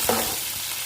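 Onion, cumin and bay leaf fry in hot oil for chickpea pulao, giving a dense, continuous close-up sizzle throughout the brief moment.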